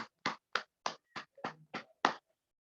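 Applause for Jairam Gupta comes as about eight separate hand claps in a quick, even rhythm, sharp and fairly quiet, ending abruptly.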